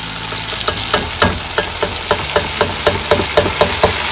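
Fried potatoes and masala are stirred into a chicken malai tikka biryani frying in a pot, giving a steady sizzle broken by repeated, evenly spaced scraping strokes of the spoon, close and alone.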